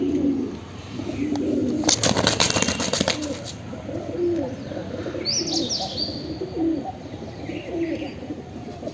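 Pigeons coo softly in low, rounded phrases on a rooftop, with a brief burst of wing flapping and faint chirps mixed in, close and fairly quiet.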